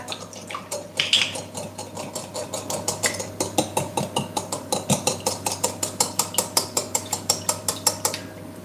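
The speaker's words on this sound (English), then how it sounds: "I'm just going to break up the eggs in here and whisk everything together." Eggs and batter ingredients for a keto birthday cake are whisked briskly in a bowl, the whisk ticking against the sides in a fast, steady rhythm that grows more regular and continues alone without talk.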